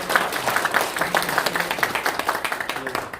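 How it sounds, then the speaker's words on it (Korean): A crowd applauds at a Seoul city policy debate forum with dense, steady clapping that continues throughout, loud and close. "뜨거운 박수 부탁드립니다"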